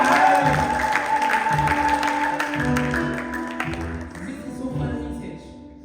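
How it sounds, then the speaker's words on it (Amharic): A church congregation at a children's service claps and cheers in a loud burst of applause that gradually thins and fades toward the end, with voices mixed in. "ለእግዚአብሔር ከፍ ያለ ጭብጨባ ሃሌሉያ!"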